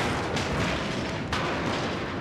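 Ship gunfire in the strategy game Fall of the Samurai, gunboats firing in a naval battle, heard as a continuous roar of distant booming cannon fire with two sharper bursts, no voices.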